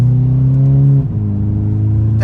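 A car engine with an automatic gearbox, driven at full throttle, drones loudly and steadily, then dips briefly as if shifting gear before pulling on again at a lower pitch.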